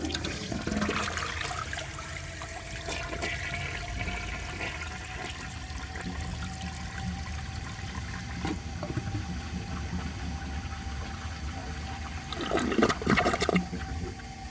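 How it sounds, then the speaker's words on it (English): A 1984 Eljer Murray toilet with a dry bowl flushes in a steady, close rush of water that runs on for several seconds, swelling into a louder gurgling surge near the end as the bowl siphons. "For the first flush test, let's see how it flushes with a dry bowl."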